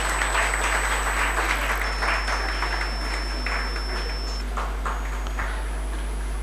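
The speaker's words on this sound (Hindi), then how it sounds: "जोरदार तालियों के साथ में आपका स्वागत।" Conference audience at an international yoga event claps to welcome a speaker, a dense, steady wash of applause over a constant low hum and faint electronic tones, lasting several seconds.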